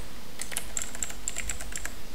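Rapid, light clicks of typing on a computer keyboard, close and clear, in a quick irregular burst of keystrokes with no voices.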